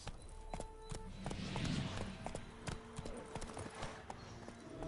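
Horse hooves clip-clop steadily on a road in the Witcher 3 video game, a close, continuous rhythmic trot with game music and ambience behind.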